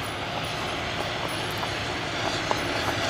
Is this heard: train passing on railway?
yes